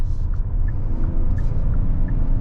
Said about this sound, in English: I'm flooring the SUV now, and this is what's going on